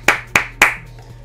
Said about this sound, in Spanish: ¡Un aplauso para eSports! ¡Un aplauso!